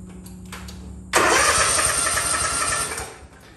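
An Ariens Ikon XD snowblower engine cranks briefly, then fires and runs loud and steady at close range for about two seconds before dropping off.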